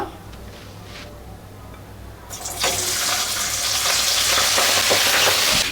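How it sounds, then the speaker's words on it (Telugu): Sweet corn kernels hit hot oil in a pan and break into a loud, steady sizzle that swells partway through and keeps hissing close up. "ఈ స్వీట్ కార్న్ అయితే మనం ఇప్పుడు బాగా ఫ్రై చేసుకోవాలి నూనెలోని"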